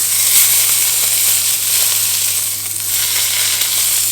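Thick Scotch fillet steak searing in a hot pan with garlic butter, a loud, steady, close sizzle that hisses on without a break, over a faint low electrical hum.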